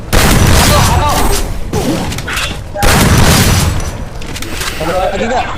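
Grenade blast and gunfire in a video game match at an offline tournament in Bogor, with heavy booming bursts and rattling shots sweeping through the clip, loud and close, while players talk over the action.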